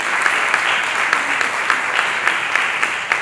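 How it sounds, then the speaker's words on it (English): A keynote audience gives steady, dense applause, close and continuous throughout with a few sharper individual claps standing out. "Could we all give a round of applause to Nima?"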